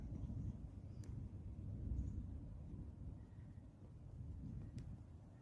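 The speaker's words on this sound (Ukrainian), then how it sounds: "з півдня до нас суне така синява гримить, блискає" Low, rolling rumble of far-off thunder under steady wind-like background noise, faint and continuous.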